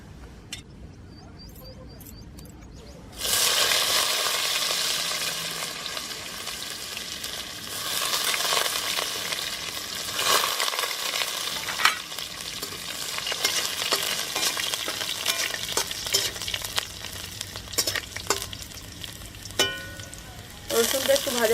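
Garlic frying in a pan in a traditional village kitchen, a loud continuous sizzle that starts abruptly after a quiet opening and carries on with occasional stirring scrapes.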